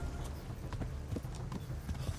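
Hooves of a horse in Kingdom Come: Deliverance strike in a quick, regular clip-clop rhythm, fairly close over a low rumbling game background.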